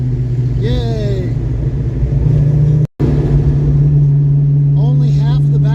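A Ford 302 V8 in a Mustang idles with a steady low rumble, close and loud, with a brief cutout and someone talking over it; the engine had a dead cylinder.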